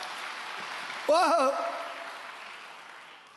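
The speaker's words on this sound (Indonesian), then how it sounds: "Tepuk tangan bagi Allah kita." A church congregation claps in a wash of applause that starts suddenly and slowly fades. A voice gives a brief exclamation at the start.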